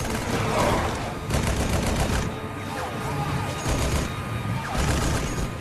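Sustained automatic weapon fire and bursts of gunshots during a battle in the video game Halo 5, loud and dense throughout with brief lulls between volleys.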